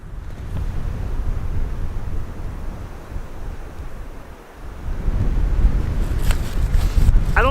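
Wind gusts roar into the microphone outdoors on a winter trek across a frozen lake in Canada, a loud steady rush that dips briefly mid-way, then returns with faint higher sounds near the end.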